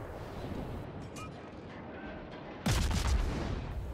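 Naval gunfire from a ship in World of Warships aimed at an enemy Tirpitz that is on fire, with a low rumbling background and then a sudden loud booming salvo that rolls on.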